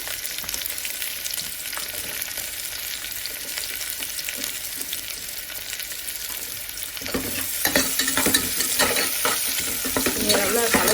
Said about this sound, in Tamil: 2 மீடியம் சைஸ் ஆனியன் அதை நீட்டாக கட் பண்ணி வச்சுருக்கேன். அதையும் போட்டு நல்லா வதக்கிடலாம்.